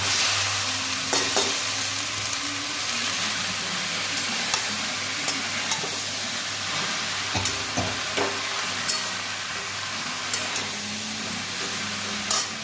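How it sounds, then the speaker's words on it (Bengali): Boiled cabbage stirred in a frying pan, a steady close sizzle with scraping stirs and soft clatters of the spoon throughout, no talking. "বাঁধাকপি সেদ্ধটা দিয়ে দিচ্ছি"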